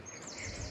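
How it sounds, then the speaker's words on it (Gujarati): Sparrows chirp in Battersea Park near the lake, their thin, faint calls carried over a soft outdoor background, with no talking. "ચકલીનો ગુંજવાનો અવાજ તમને આવી રહ્યો છે"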